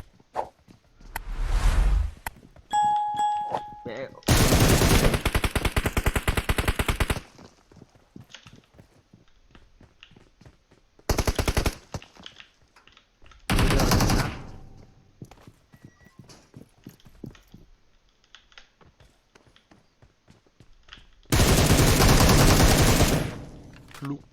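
Gunfire in the PUBG Mobile battle royale game comes in several loud, dense bursts of rapid shots separated by quieter gaps, with softer in-game movement and effects between them.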